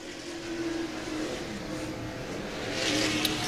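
Race car engines at Star Speedway rev through hot laps for a Great Lakes Super Stock feature, a steady rough roar with revs rising toward the end, heard from trackside at moderate distance.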